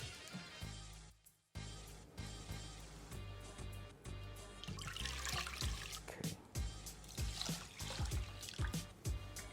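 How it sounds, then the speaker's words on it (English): Water rinses rice during washing, with faint pouring, trickling and sloshing in irregular bursts and a short pause near the start. "wash it until the water rinses clear"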